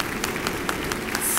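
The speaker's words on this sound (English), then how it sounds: "give a round, round, round, round of applause, several of them if you would, for Vicki Hitzges" An audience at a leadership talk applauds to welcome the speaker, a brief wash of steady clapping from a crowd, moderately loud and continuous.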